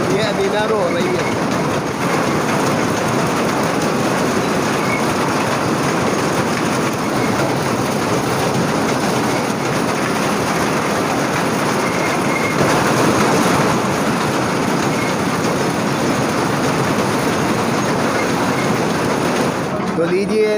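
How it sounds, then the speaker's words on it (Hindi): A passenger train rolls along on its rails with a steady rumble and rhythmic clickety-clack of wheels heard from inside a carriage, continuous and fairly loud throughout. "चलना शुरू हो गई है रेलगाड़ी।"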